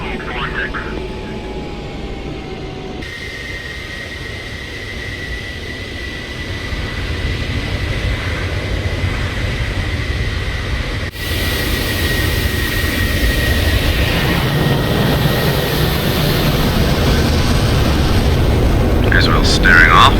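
An F-16 jet engine roars through a takeoff roll in a flight-combat game, a steady loud rumble and whine that grows heavier and louder partway through, with a faint voice at times.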